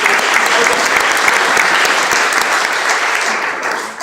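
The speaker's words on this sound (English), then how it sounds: "Can everybody give Kelly a round of applause?" Sustained, dense applause from an audience at an evening networking meeting fills the whole stretch, loud and steady before tapering slightly at the end, with no talk over it.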